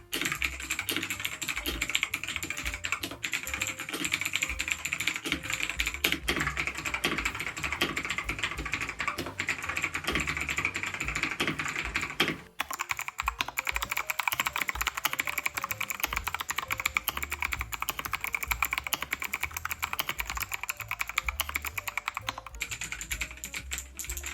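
Loud, clacky mechanical keyboard typing, a rapid continuous stream of sharp key strikes close up, with a brief pause midway.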